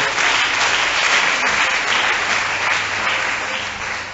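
A church congregation applauds steadily to acclaim the Lord during a French-language service, a dense, sustained wash of clapping from many hands that holds level throughout and tapers slightly at the end.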